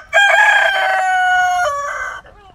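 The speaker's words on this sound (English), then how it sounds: "I finally paid attention to my rooster Bryson as he mounted Donna" A rooster crows once, loud and close, a single drawn-out cock-a-doodle-doo with a bright harmonic call that holds and then trails off, with no talk.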